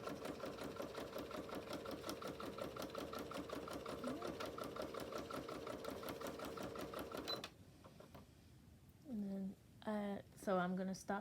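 A sewing machine runs steadily for about seven seconds while stitching fabric for a scrunchie, a close, rapid mechanical chatter, then stops; a person talks briefly afterward.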